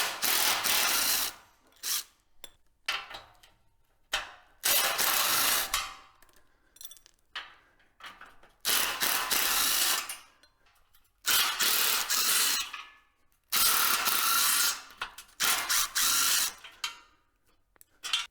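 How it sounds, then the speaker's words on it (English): Ratchet socket and wrench working M10 bolts and lock nuts on an old utility trailer, heard as loud, rapid clicking bursts of a few seconds each, separated by short quiet pauses, with no talking. "we're using a 16 mil wrench for the M10 bolts and a 17 mil socket for the M10 lock nuts"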